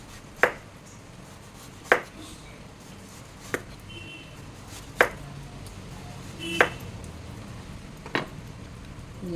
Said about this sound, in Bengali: চাল কুমড়াটা ছুলে নিয়েছি, এখন গোল গোল করে কেটে নেব